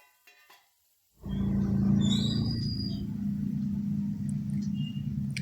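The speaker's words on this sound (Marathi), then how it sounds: "हे सर्व मिश्रण व्यवस्थित परतून घ्यायचे" Okra fry mixture with finely chopped tomato sizzling steadily in a pan, a quiet start followed by a sudden rise into a continuous, even frying hiss that holds to the end.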